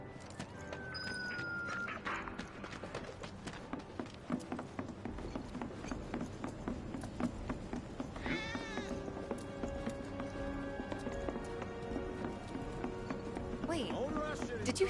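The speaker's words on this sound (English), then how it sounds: "Ah, that was definitely a cat." A cat meows nearby in Final Fantasy 7 Remake, a couple of rising mews heard over in-game music, clip-clopping hooves and mechanical ambience, with characters talking.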